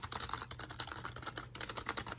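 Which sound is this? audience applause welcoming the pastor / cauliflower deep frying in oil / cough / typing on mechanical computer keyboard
typing on mechanical computer keyboard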